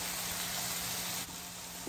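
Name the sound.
ground beef frying in its own fat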